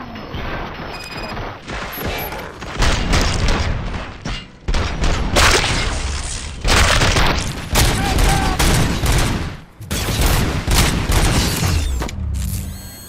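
Gunfire in RoboCop: Rogue City bursts in heavy, repeated volleys with booming impacts and mechanical clatter, loud and close, broken by a few short pauses.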